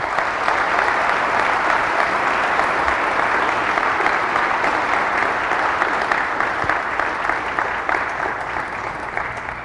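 A church congregation bursts into sustained, loud applause during a priest's homily; many hands clap in a thick, steady roar that holds for nearly ten seconds and eases slightly at the end, with no talking over it.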